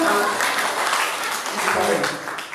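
Applause from a church congregation during an Ilocano sermon: a steady, dense wash of clapping, moderately loud throughout, with voices mixed in.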